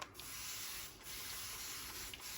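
A hand mister sprays water across a stretched painting canvas in repeated short hissing bursts, near and steady, with no talking.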